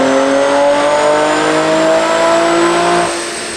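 A 500-horsepower Nissan Z with an Alpha 5 package revs hard during a power run, its loud, close engine note climbing steadily in pitch before dropping off at the end.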